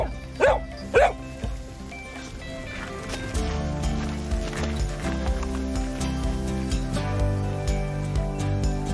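A tracking dog on a scent trail gives two sharp, close barks near the start, followed by a stretch of steady footsteps and background noise with no further barking.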